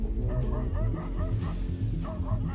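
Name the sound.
dog barking at a leopard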